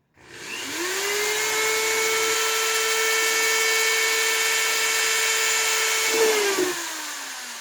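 A power drill drilling a plastic bucket whines steadily for several seconds at a constant high pitch, spinning up at the start and winding down near the end, close and loud.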